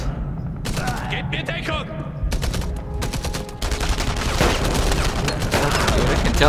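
Gewehr rifle shots and bursts of gunfire ring out in the World War II shooter Enemy Front, sharp cracks coming in quick clusters while someone talks loudly over the shooting.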